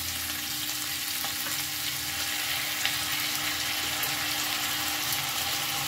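Ginger-garlic paste fries with onions in a pan for yakhni pulao, giving a loud, continuous sizzle throughout.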